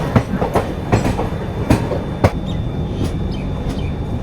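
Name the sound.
Nagercoil-Coimbatore Express train passing on rails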